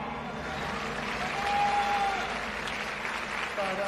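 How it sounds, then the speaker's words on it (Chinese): An audience applauds at the 1999 All Asian Star Search grand final as ten contestants come on stage, a steady, dense clapping that continues for the whole stretch and swells slightly midway. "掌声欢迎今晚的十位新秀出场。"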